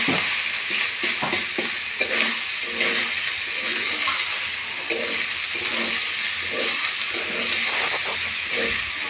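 Leftover cooked rice frying in a pan with salt added, under a constant hissing sizzle and steady rhythmic scraping stirs, close and loud, with no voices.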